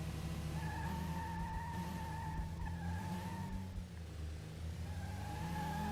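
A race car in the video game Metropolis Street Racer drives and brakes, with a steady engine drone and a long tire skid whining above it. The sound is constant and mid-level and fades briefly before the squeal returns.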